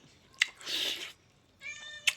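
A cat meows twice, short close cries separated by a pause, with a few faint clicks and taps around them.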